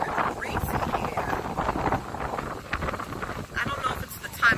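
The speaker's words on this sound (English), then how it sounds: "but it's real windy" Strong wind buffets the microphone at a sunny Punta Cana beach resort, a steady rumbling roar throughout, with a person talking under it.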